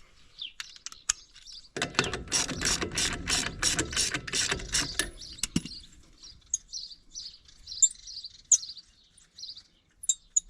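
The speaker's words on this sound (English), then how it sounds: "I'll just use my wrench to get it off all the way" A ratchet wrench loosens a lug nut on a trailer tire, a fast run of close, crisp clicks for about four seconds, then quieter with birds chirping outdoors in the background.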